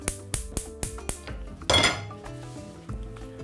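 A small cooking pot is handled with a quick series of sharp metallic clanks and clinks, close and crisp, followed by a brief scraping rattle and then quieter knocks.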